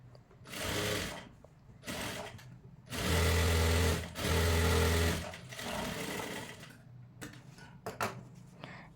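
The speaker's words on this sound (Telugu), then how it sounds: "ఇలా మళ్ళీ డబల్ స్టిచ్ వేసుకోవాలి" A sewing machine runs double stitching on the cloth of a child's jumpsuit. Its motor hums in short, close bursts, with the longest steady whir in the middle and brief stops between seams.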